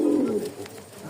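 A pigeon coos once, a short low throaty call that fades after about half a second, close by among Lahori, Lakkha, Mukkhi and Giribaj pigeons, with no talking.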